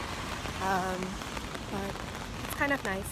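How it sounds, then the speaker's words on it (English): Rain patters steadily on a surface in London, a continuous hiss of drops, while a person speaks briefly nearby. "dinner and it's raining"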